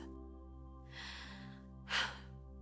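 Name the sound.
deep steadying breath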